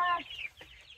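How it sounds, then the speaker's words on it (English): Backyard chickens clucking close by, a short burst of bright, throaty clucks followed by a quieter cluck, with no talking. "What do you like about having chickens, Alyssa?"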